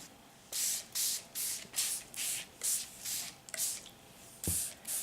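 A spray bottle pumped repeatedly onto paper for coffee dyeing, about ten short hissing bursts in a steady rhythm, close and fairly loud, with brief pauses between.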